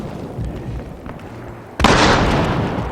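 Incendiary grenade going off in the shooter game Battlefield Hardline: a sudden loud bursting whoosh that continues as a sustained roaring hiss, following a stretch of quieter game noise.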